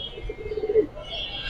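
A pigeon coos close by in a short, low, rounded burst of a few pulses, with faint background noise around it.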